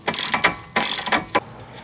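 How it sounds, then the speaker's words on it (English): A socket ratchet works on a DeLorean brake hub, quick close bursts of metallic clicking in three or four short runs separated by brief pauses, alone and fairly loud. "now you can just go back to a regular socket"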